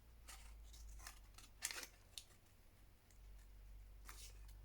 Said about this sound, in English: I'm just going to cut across that line.